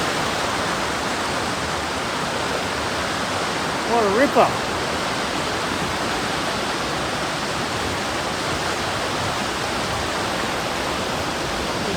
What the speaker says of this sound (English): Good sized river.